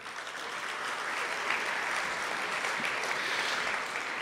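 Sustained applause from an audience at a college athletics year-in-review event, a steady dense wash of clapping that holds evenly at moderate loudness for the whole stretch with no talk over it.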